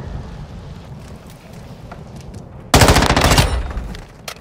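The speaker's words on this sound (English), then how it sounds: "Sentry gun deployed." A sentry gun in a first-person shooter game opens fire after a quieter stretch of low background rumble, a sudden loud burst of rapid automatic gunfire lasting about a second before tapering off.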